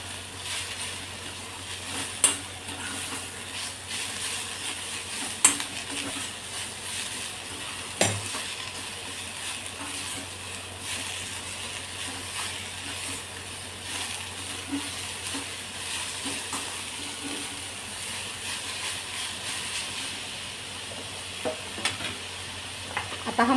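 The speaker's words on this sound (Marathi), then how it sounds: "आता हे थोडंसं परतून घ्यायचं" Spinach and coriander masala sautés in a pan, a steady soft sizzle broken by occasional spoon scrapes and clinks against the pan, alone without talk.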